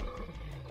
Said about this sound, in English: Sounds just like a male lion roaring.